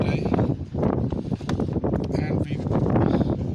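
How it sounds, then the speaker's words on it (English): Strong outdoor wind buffets the microphone in loud, continuous rumbling gusts while someone works on a Toyota Yaris mk 2 headlight, with no clear talk over it. "It's a very windy day today"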